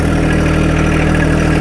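A John Deere tractor engine idles steadily at close range, giving an even, continuous mid-to-low chug with no other sounds.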